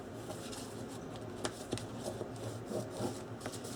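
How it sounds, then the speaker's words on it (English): Paper being burnished down firmly inside the back cover of a handmade album, a soft continuous rubbing and scraping close by with a few sharper scuffs. "So I'm going to burnish this down really well."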